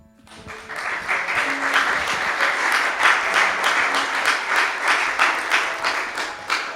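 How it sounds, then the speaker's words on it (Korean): Church congregation bursting into sustained applause during a Sunday worship service, many hands clapping in a fast, dense patter that swells quickly and holds steady throughout. "인사하고 들어가실 때 한 번 더 큰 박수로 축복해 주시기 바랍니다"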